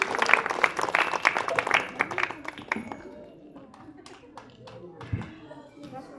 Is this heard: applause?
yes